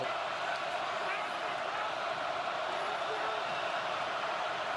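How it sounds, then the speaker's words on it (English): A packed football stadium crowd at an NFL playoff game between the Colts and Chiefs, a dense continuous roar held at an even level, with a commentator's voice over it. "That crowd noise certainly helps"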